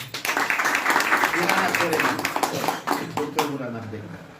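Applause from an audience at a festival preparation event on the Comoros rolls as a rapid clatter of many hands. A voice speaks over it, and the sound thins out toward the end.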